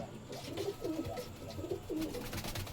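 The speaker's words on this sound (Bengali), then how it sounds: "এই সাদা পায়রাটা, এগুলো সব কালো" Domestic pigeons, white and black birds kept at home, coo in soft repeated rolling calls close by, over a steady background hum with no talk.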